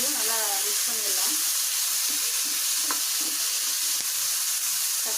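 Chopped onions and tomatoes hiss and sizzle in a pan while being stirred, with occasional soft scrapes over a constant frying noise and a brief voice at the start.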